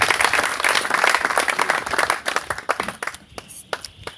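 A church congregation at a pastors' conference claps together in a loud, dense burst that thins into scattered claps and fades away within a few seconds.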